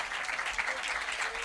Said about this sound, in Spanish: Me gustaría que les recibiéramos con un aplauso